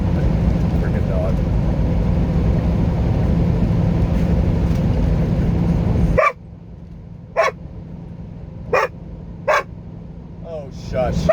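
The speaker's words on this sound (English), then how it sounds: "you're barking right in the microphone for the camera." Heavy road roar from a vehicle on I-70 heading into the Colorado Rockies cuts off abruptly, then a nearby dog barks about five times at irregular intervals against a quieter background.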